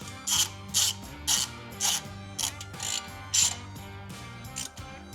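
A ratchet tightens bolts on an aluminum skid plate fitted to a Harley-Davidson Touring motorcycle, giving repeated bursts of sharp clicking strokes close by, alone without talk.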